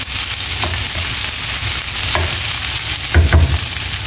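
Oil sizzling steadily in a hot pan, with a few scraping strokes as egg fried rice made from leftover rice is stirred and tossed, louder near the end.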